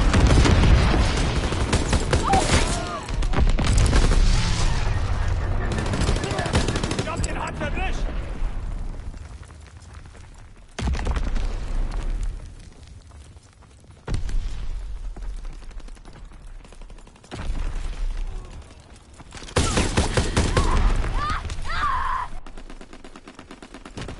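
Bombing and gunfire from a war video game come in heavy, sustained bursts of blasts and shooting, separated by short quieter gaps, with voice callouts heard in between.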